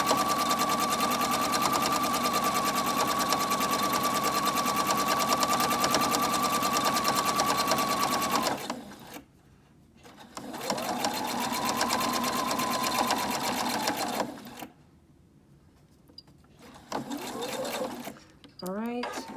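A sewing machine stitches handles onto a Cricut-made Bible cover, running steadily for about eight seconds, then in shorter bursts separated by brief pauses, close and loud, with a voice talking over it.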